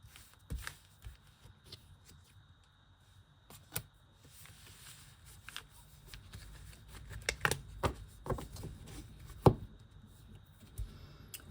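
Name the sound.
shuffling cards during a card reading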